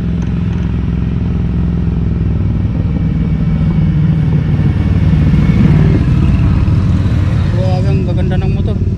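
Motorcycle engines rumble loudly and continuously at close range, with a deep, steady drone that swells slightly midway, and voices are faintly present.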